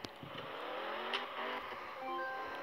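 Bentley engine revving in the Driving School 2017 game, a steady smooth engine roar rising slightly in pitch, heard alone and moderately quiet.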